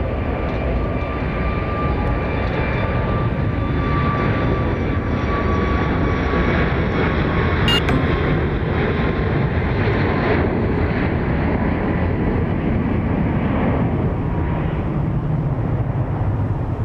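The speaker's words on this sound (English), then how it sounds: "clear for takeoff, 31 right for Southwest 1218" A Southwest jet airliner takes off from runway 31 right at Dallas Love Field, with a loud, sustained engine roar that holds steady throughout and is joined by faint wind rumble.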